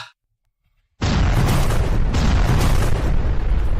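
A bomb explodes in a video game after a moment of silence, bursting into a loud, sustained roar of blast and debris that fills the rest of the moment without any voices.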